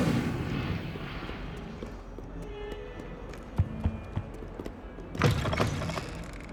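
Incendio fire spell cast in Hogwarts Legacy on PS5, a whooshing burst over a low rumble with a few sharp cracks and a bright flare near the end.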